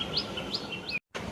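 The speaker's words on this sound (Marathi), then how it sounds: "चिमण्यांचा आवाज पण येतो इकडे." Sparrows chirp on a cool early morning, a few short bright tweets repeating in quick succession, clear against a quiet background before a brief dropout.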